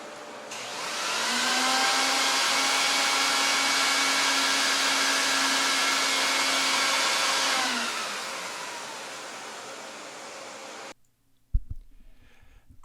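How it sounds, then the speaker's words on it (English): A vacuum cleaner works over an Oriental rug with a loud steady whine and whirring hum. It runs for about eight seconds, then winds down and stops, followed by a few clicks. "Please listen how the vacuum"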